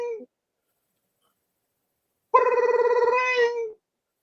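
A telephone rings once for an incoming call to a Friday-night radio-style sports show, a clear, loud ring with a rapid warble lasting over a second after a brief earlier chirp, then silence.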